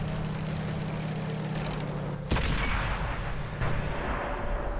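A Type 64 tank gun fires in World of Tanks, one sharp booming shot over a steady engine drone, followed by a softer second thud.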